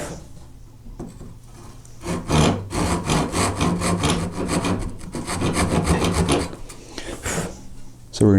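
A hand saw cuts a shallow kerf in wood for a dovetail marker, giving close, loud, rhythmic rasping back-and-forth strokes after a few quiet light taps at the start.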